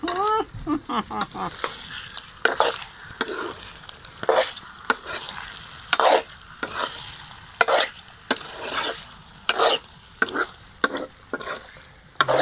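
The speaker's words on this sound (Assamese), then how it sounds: "ভাজি আছোঁ দেই হাঁহ মাংস" Duck meat frying and being stirred in a pan over a low flame, with repeated bursts of scraping and sizzle in an irregular rhythm, close and moderately loud, with no talking.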